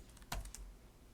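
A short burst of computer keyboard typing, a few soft clicks with one sharper keystroke standing out, close and fairly quiet.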